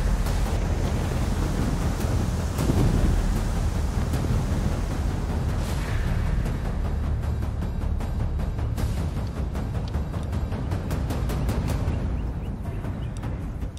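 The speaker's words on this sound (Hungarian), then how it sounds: "Egyszer csak eláll ez az őrült szél." Strong wind buffets the microphone beside the Ebro river at a catfishing spot, a loud, continuous roar that rises and falls throughout with no talking.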